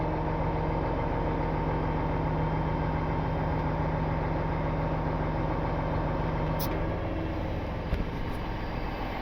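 A rollback truck runs its engine at a steady low idle while the bed tilts down, a continuous drone with a faint hydraulic whine and a couple of light clanks near the end.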